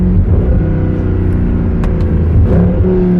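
Mercedes W204 C63 AMG on a cold day with winter tires, its engine droning loud and close through a gear pull, with a brief shift-like dip partway.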